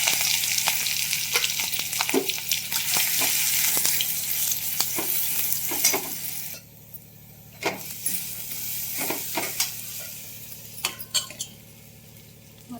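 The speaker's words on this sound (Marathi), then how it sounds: "थोडंसं जिरं आणि हे मिश्रण टाकून भाजी करणार" Garlic, ginger, chili and cumin sizzle and crackle steadily in hot oil in a home kitchen, loud for the first half, then quieter with occasional spatters and clinks of a utensil.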